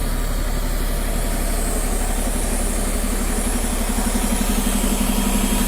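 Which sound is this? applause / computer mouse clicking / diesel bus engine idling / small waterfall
diesel bus engine idling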